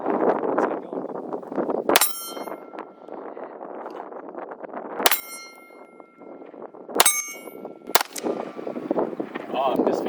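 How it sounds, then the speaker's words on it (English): An OA Defense 2311 Pro Elite pistol loaded with 115-grain ammunition fires four sharp, loud shots spaced a few seconds apart, each followed by a metallic ring, over steady outdoor wind noise. "this is a guest shooter shooting 50 rounds through the OA Defense 2311 Pro Elite"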